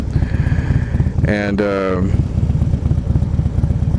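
A 2016 Harley-Davidson Low Rider S (FXDLS) with a 110 engine, rumbling steadily at a low pulse close to the microphone while someone talks over it.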